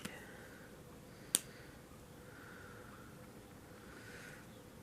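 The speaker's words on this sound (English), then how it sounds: "You hear the crickets outside." Faint, steady insect chirring outdoors at night, like distant crickets, with one sharp click partway through and no talking.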